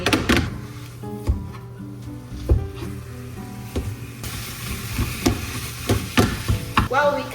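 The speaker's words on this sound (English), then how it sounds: "We're literally gonna cook all of this meat." Ground sirloin beef, 90% lean, cooking in a pan: a continuous sizzle with scattered knocks and scrapes of stirring, fairly close and clear, with no talk.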